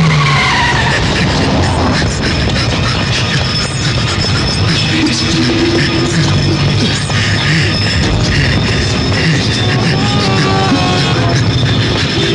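A car speeds away with tires skidding and squealing in a tense action scene from a Malayalam film, loud and continuous throughout amid a busy, dense mix of engine roar and other noise.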